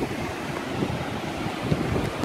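Strong wind buffets the microphone at a beach house by the ocean, a continuous broadband roar with surf mixed in, steady and close with occasional gusts and no speech.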